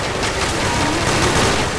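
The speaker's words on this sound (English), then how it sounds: "Shoot, everybody's shooting." Dense, continuous gunfire in Counter-Strike: Source on a Zombie Escape map, many weapons firing at once in a loud, unbroken barrage with no pauses.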